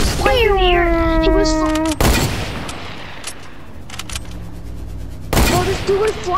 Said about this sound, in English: I sniped him. The 215 with the hunting rifle.